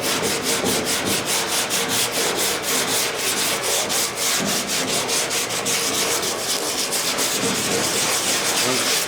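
A truck cab corner being sanded by hand with 80-grit paper during a restoration: loud, steady, rapid back-and-forth scratching strokes that keep up a constant rhythm with no talking.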